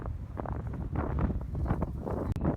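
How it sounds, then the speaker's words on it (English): Heavy wind at the Bird's Nest stadium in Beijing buffets the microphone in steady low rumbling gusts, loud and continuous throughout, with a brief dip near the end. "It's super windy today."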